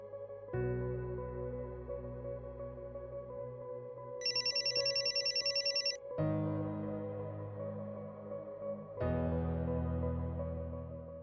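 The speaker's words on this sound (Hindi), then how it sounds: "फ़ोन करती हूँ।" A telephone rings in a quiet room in a drama scene, sounding as a series of long electronic ringback tones with a brighter trilling ring in the middle, steady and alone.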